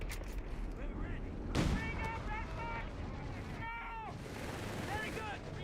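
Gunfire in a Japan-side war video game: sharp shots and a heavy blast crack over continuous battlefield din, with shouted voices and radio-like calls layered through the mix.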